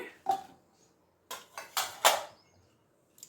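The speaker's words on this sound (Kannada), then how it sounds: "ಮೊದಲಿಗೆ ಒಂದು ಪ್ಯಾನಿಗೆ 3 ಈರುಳ್ಳಿ ಹಾಕ್ತಿದ್ದೀನಿ" Sliced onions drop into a pan for a kabuli chana masala, giving a few light scattered clatters and clinks of food and metal, close and fairly quiet with short pauses between.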